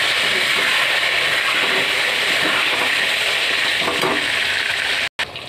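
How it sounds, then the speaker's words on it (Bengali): Potatoes, onion and garlic fry together in oil in a pan, producing a dense, steady sizzle with faint stirring scrapes, cutting out abruptly for a moment near the end before resuming. "এর মধ্যে আলু, পেঁয়াজ আর রসুনটা এবার একটু ভেজে দিচ্ছি।"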